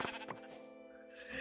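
Minecraft sheep bleating in a survival game world, a short wavering bleat rising near the start over a steady harmonic game-music backdrop, moderately close and alone without talk.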